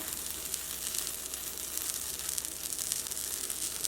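Cooking oil sizzling in a pan for a vegetable bean quesadilla, a steady, fairly faint crackling fizz throughout with no voices.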